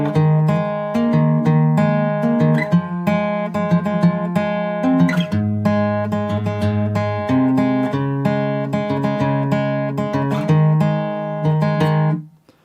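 An acoustic guitar plays the bridge of a song, with clear picked and strummed chords in a steady rhythm, close and alone for about twelve seconds before ringing out.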